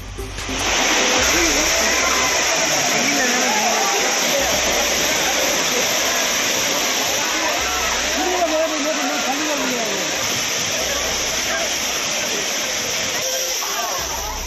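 The Courtallam waterfall sends down a continuous loud roar of rushing water while tourists bathe, with faint voices mixed into the steady wash.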